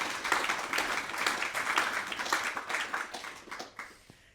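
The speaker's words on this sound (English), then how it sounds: "give her a round of applause" An audience claps together in steady applause at a faith and literature festival talk, a dense even patter that fades away toward the end.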